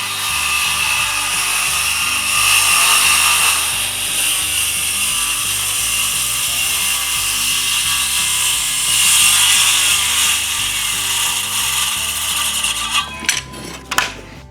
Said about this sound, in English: clamping the straight edge in place, and then making the final cuts